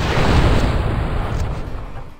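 A loud, close explosion in the GUN video game erupts as a dense roaring blast that slowly rumbles away over a couple of seconds.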